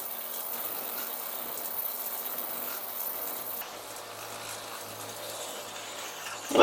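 A boring machine spindle turns at about 80 RPM with a quiet, even mechanical hum and faint ticking. The sound settles slightly softer partway through.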